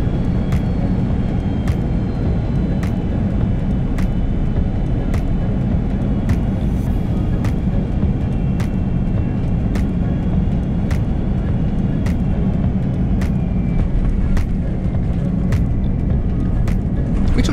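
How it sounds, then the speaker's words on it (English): Cabin drone of a Malaysia Airlines A330-200 descending toward Bangkok, a loud, steady low engine roar filling the whole stretch with faint regular ticking above it. "we'd started our descent towards Bangkok"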